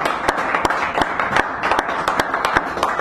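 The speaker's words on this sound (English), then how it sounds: "Your round of applause as she comes here" An audience at a poetry reading in a San Francisco cafe applauds, a dense, moderately loud patter of many hands with sharper individual claps standing out, continuing without pause.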